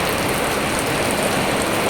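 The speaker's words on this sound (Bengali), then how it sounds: "প্রচণ্ড বৃষ্টি হচ্ছে।" Heavy rain pours down, a dense, loud, steady hiss of drops pounding surfaces close by, with no voices.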